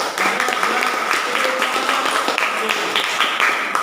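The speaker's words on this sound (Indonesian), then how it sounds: "Sekali lagi beri aplaus untuk kelompok 3" A classroom gives a round of applause for group 3 after its presentation. Dense, steady clapping from many hands runs for about four seconds, with some voices mixed in.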